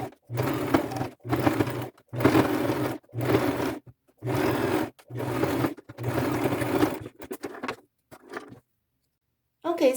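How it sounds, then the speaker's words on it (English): A sewing machine runs a fairly small straight stitch with off-white thread across the bottom of a vintage lace crossbody purse, in about six close bursts of steady whirring with short pauses between them, then a few quieter taps near the end. "I'll just do a fairly small straight stitch right across the bottom"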